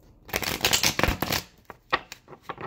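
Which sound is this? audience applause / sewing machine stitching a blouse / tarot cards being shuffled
tarot cards being shuffled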